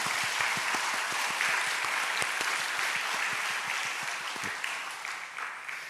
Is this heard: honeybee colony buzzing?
no